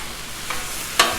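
Ginger hits a hot Blackstone griddle with a soft steady sizzle, a brief scrape near the middle and a sharper stir-and-sizzle burst near the end, close and alone with no talking.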